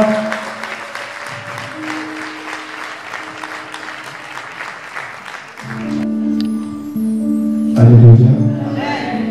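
Church congregation claps loudly and steadily, cheering and praising the Lord, the applause continuing at length while sustained organ or keyboard chords rise and a voice cries out near the end.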